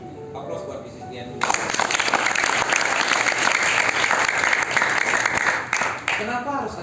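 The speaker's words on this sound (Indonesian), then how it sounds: "Aplaus buat bisnis dia." An audience at a business meeting bursts into dense, sustained applause that follows a spoken line and carries on steadily for several seconds.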